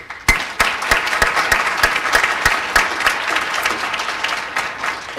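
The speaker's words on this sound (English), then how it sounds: "A quick round of applause for them" Guests at a physical therapy hooding and pinning ceremony clap for the administrative staff: a few sharp, evenly spaced claps ring out first, then thicken into steady applause that slowly thins toward the end.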